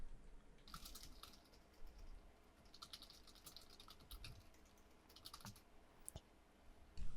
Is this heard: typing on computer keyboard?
yes